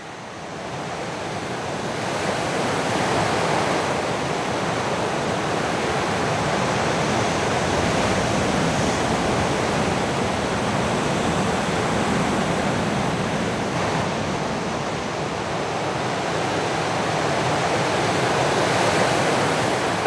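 Steady roar of ocean surf breaking at a Crozon surf spot under an overcast sky, a continuous wash of waves with gentle swells in loudness and some wind, no voices.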